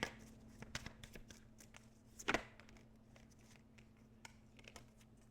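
Tarot cards being shuffled by hand, soft, close riffling and tapping bursts with one sharper snap near the middle, quiet and with no talking.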